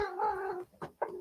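Cats meow and caterwaul close by inside a room, one long drawn-out yowl followed by two shorter cries after a brief pause.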